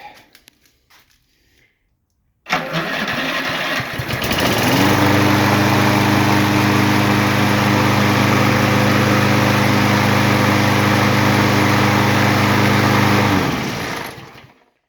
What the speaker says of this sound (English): Motor's firing up, staying running.